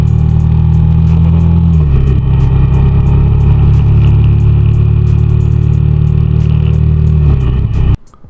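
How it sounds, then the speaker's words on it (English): An Indian FTR 1200 motorcycle idling with a well-tuned exhaust, a loud, close, steady low rumble that holds for several seconds before cutting off abruptly near the end, with no talking. "It's a well-tuned exhaust. It's not too loud and not too soft."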